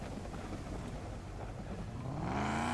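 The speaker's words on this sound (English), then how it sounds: "This car is a lot louder than the last one" A battered, heavily loaded car in the driving game Drive Beyond Horizons runs with a steady, loud engine drone that rises in pitch toward the end as it revs up.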